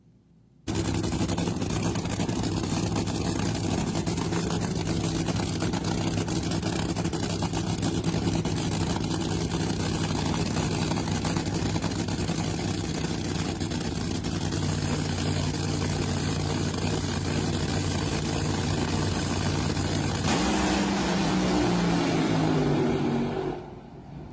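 An NHRA nitro funny car engine roars loud and steady for over twenty seconds with a deep rumbling drone, its pitch shifting near the end before cutting off.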